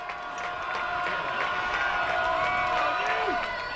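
A crowd cheers and applauds at an 8-man high school state football game between Hill City and Madison, a steady roar of voices and clapping with a few shouts rising above it.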